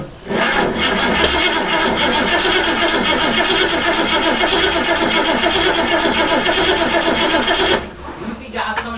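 Starter cranking on a 1967 Ford Mustang that fails to start, a loud, steady churning whir running for about eight seconds before it cuts off, with a voice heard briefly near the end.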